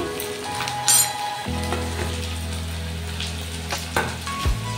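Chopped garlic dropped into hot oil in a pan, a loud close sizzle with clinks of a spoon and utensil against the pan and a low steady hum underneath, no speech.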